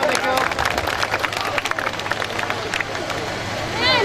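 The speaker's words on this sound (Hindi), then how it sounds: "जोरदार तालियां" A crowd claps and cheers at a rural fair in Kharian, Gujrat, where a neza bazi tent-pegging festival is held. The applause is dense and loud and continues for a few seconds with crowd babble and voices mixed in.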